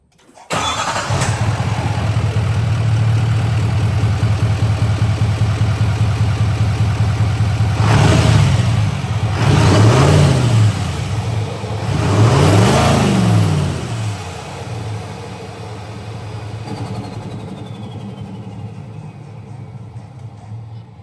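A 2024-25 Duramax V8 turbo diesel pickup fitted with a Banks Ram-Air intake starts, settles into a low idle, then revs in three rising and falling blips before dropping back to a steady idle.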